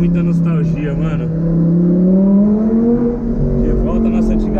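Audi R8 driving, its engine holding a steady, loud drone with rising and falling pitch as it accelerates, cabin road noise underneath and no talking.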